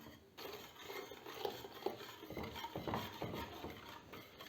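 A whisk scrapes quietly in a pot as an egg and a litre of milk are beaten together for supangle pudding, a steady run of rhythmic rasping strokes close by.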